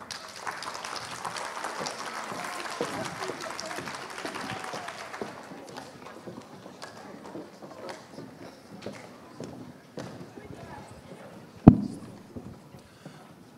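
Applause from an audience at the close of a conference, a steady crowd clatter of clapping for several seconds that thins out, with a sharp knock near the end.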